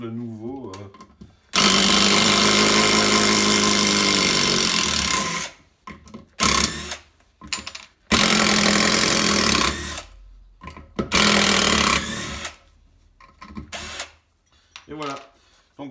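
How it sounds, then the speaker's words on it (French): Black and Decker impact driver driving a lag screw: loud whirring, hammering bursts of several seconds each, then shorter stop-start pulses, with brief pauses between runs. "c'est une très bonne petite visseuse à choc pour, on va dire, l'usage occasionnel, voire semi-intensif"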